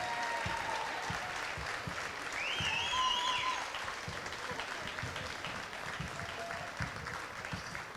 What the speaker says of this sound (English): one more round of applause for all of our student athletes and their maiden impact educators